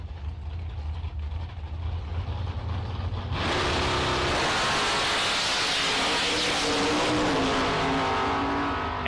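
Drag racing cars at a bracket race, one a Mustang, launch down the strip after a low idle rumble, then a sudden loud, sustained roar of engines accelerating away.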